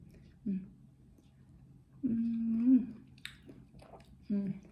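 Chewing of a crunchy Isan dish of boiled beef, buffalo or pork liver with wild mushrooms, heard as a few short crisp bites close to the mic, with a voice talking between them.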